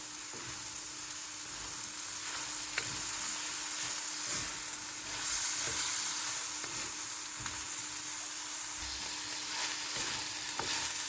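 Pakbet vegetables with pumpkin sizzle and fry in a pan while being stirred, giving a steady crackling hiss broken by soft scraping strokes, close and continuous, with no voices.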